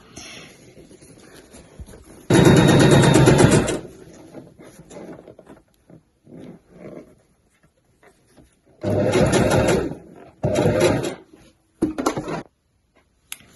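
Domestic sewing machine stitching the base of a fabric weekender bag, running in several loud bursts of steady whirring with short pauses and quiet handling noises between runs.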